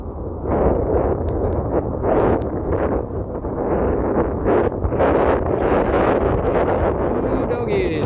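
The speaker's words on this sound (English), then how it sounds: "that wind is blowing" Strong desert wind in Tucson buffets the microphone of a moving electric scooter, roaring in loud, gusting bursts close up, with no clear speech over it.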